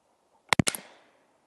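Practice shots from a Western Airguns Sidewinder Compact .22 air rifle give a quick cluster of three or four sharp, close cracks, each with a short ringing tail, surrounded by near silence.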